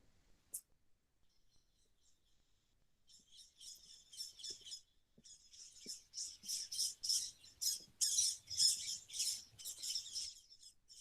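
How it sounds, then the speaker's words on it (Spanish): Faint, high bird chirps and tweets from several birds, sparse at first and growing busier, heard at a distance in a quiet garden of the Real Alcázar of Seville. "La cantidad de pájaros que se oyen."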